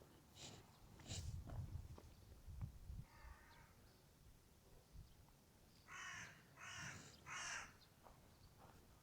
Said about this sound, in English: Mr. Crow, what's wrong?